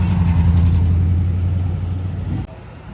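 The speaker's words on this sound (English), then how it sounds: "While the Enzo is being backed up and the Diablo is waiting" Ferrari Enzo engine running while the car is backed up at a Cavallino car show, a steady low idle-like rumble with a mild rev that fades before cutting off abruptly near the end.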